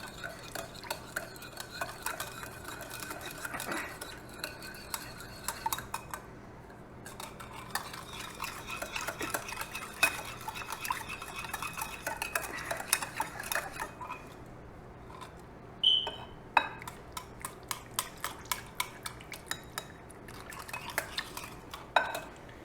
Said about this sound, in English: So whisk till it's fully incorporated.